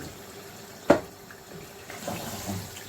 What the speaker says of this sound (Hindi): ये 2 कप हम इसमें पानी ऐड करेंगे